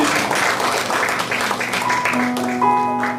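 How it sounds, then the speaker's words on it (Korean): Congregation clapping in praise during a Friday worship service at a church, a brief burst of applause that fades as sustained musical tones rise beneath it. "이 시간 우리를 깨끗게 하신 주님의 은혜를 찬양하며 박수하겠습니다"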